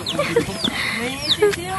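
Chickens cluck and squawk close by in short, scattered calls over a noisy outdoor background, with people talking.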